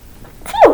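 A single human sneeze, a brief sharp burst rising from a quiet breathy lead-in to a loud close explosive peak, heard alone without talk.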